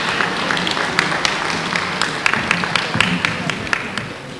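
Audience applause at a Pulaski Day celebration at a Polish museum, with dense steady clapping over a crowd murmur, moderately loud and sustained, and scattered sharper claps standing out.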